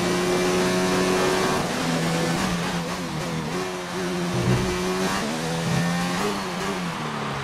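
A Ferrari race car engine howls steadily through a hot lap in a racing video game, its loud pitch rising and falling with gear changes and throttle, continuous and close throughout.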